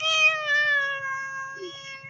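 A domestic cat gives a drawn-out, tonal squeaky meow, clear and close, followed by a brief faint chirp, with no talk over it.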